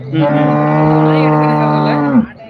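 A single long, loud moo from a cow at the Karungalpalayam cattle market in Erode, close by and sustained for about two seconds before cutting off.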